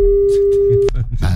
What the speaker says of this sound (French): Ah oui, c'est le téléphone.